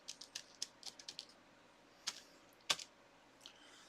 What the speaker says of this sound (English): So I always type something.